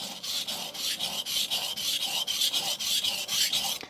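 A knife bevel scraped back and forth on a Sun Tiger GC220 grit stone, steady rhythmic rasping strokes close up and fairly loud, repeating about four times a second with no voices.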